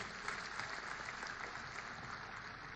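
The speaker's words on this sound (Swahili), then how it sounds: "Tuwapigie makofi jameni" At a Meta community event, an audience gives a steady wash of applause to welcome speakers, heard faint and distant as an even, unbroken patter.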